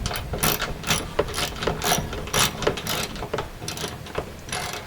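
Ratchet wrench loosening a front bumper bolt on a Chrysler 300, close and steady, with a rapid continuous clicking of the pawl through the whole stretch.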